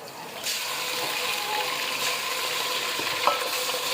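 Ginger-garlic paste sizzling and frying in a pan, with faint stirring scrapes and a small clink near the end; no voices.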